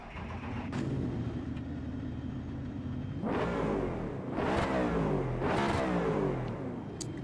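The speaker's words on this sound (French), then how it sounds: "Ça fait le bruit d'un moteur américain" A race car in the Assetto Corsa EVO video game, run at the Paul Ricard circuit, with a low idling engine burble that swells into three loud revving sweeps as the throttle is blipped, close and steady with no talk.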